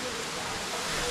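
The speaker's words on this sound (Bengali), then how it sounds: "এই যে সুপ্তধারা ঝর্ণা দেখা যাচ্ছে" Suptodhara waterfall at Sitakunda Eco Park pours with a steady, dense broadband rush of falling water, close and constant with no breaks across the short stretch.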